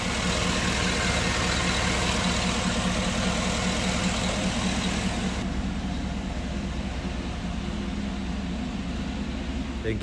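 A 2007 Cadillac Escalade ESV's 6.2-liter V8 idles with an even, continuous low hum, close and steady throughout, dropping slightly in level partway through with no talking.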